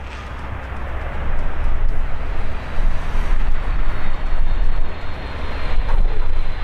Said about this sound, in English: A Silkway Airlines cargo plane makes a firm touchdown, its main gear just hitting the runway.